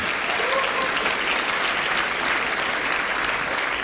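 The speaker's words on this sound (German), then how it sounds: "Klare Aussagen, klarer Applaus." A cabaret audience at a festival show bursts into dense, sustained applause, loud and even throughout, with no voice over it.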